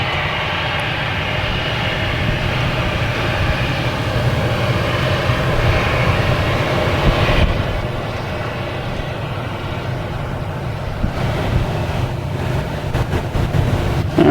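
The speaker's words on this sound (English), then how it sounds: "next coming in over our head will be a JetBlue, an A220 coming in from Cleveland," JetBlue Airbus A220 jet passing low overhead on approach to land at Boston Logan, a loud continuous engine roar that swells and then holds, with no talk.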